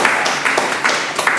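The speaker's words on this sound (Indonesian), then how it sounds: "Tepuk tangan dulu dong." Applause from a crowd at an Indonesian action-film and stunt gathering: a short, steady wash of clapping, fairly loud and close, with a few sharper individual claps standing out.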